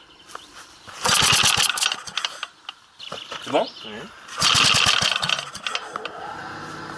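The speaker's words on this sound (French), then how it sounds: "Démarrage avec le carburateur monté." A small engine with its carburetor fitted, chosen for a homemade bike build, is test-started and revs loudly in two rattling bursts, with a quiet pause between them, while people talk around it.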